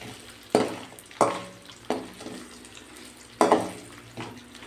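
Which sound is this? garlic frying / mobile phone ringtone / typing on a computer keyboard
garlic frying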